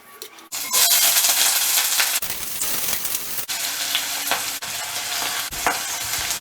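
Chopped onions sizzle loudly in hot oil over a high flame for a Manipuri catfish and bamboo shoot curry, a dense steady crackle with a few brief scraping stirs and no voices.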